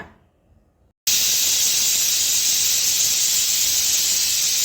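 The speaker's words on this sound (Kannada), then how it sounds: "ಈಗ ಕುಕ್ಕರ್ ಲಿಡ್ ಕ್ಲೋಸ್ ಮಾಡಿ ವಿಸಿಲ್ ಹೊಡೆಸ್ಕೊಂಡು ಬರೋಣ" A pressure cooker cooking lentils with salt vents steam through its whistle. After a second of near quiet, a sudden loud, continuous hiss bursts out and holds steady and close.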